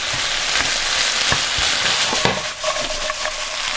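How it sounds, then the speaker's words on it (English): Pumpkin being stirred into a sizzling mixture in a frying pan for a high-protein breakfast, with a loud steady crackle and intermittent scraping strokes of the utensil, no talking. "We're gonna add our pumpkin right into it, and mix it a little bit."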